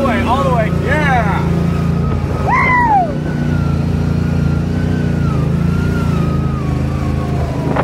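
A car engine revs while drifting, its pitch rising and falling in swooping bursts with a constant engine drone underneath, loud and close, while people talk and shout over it.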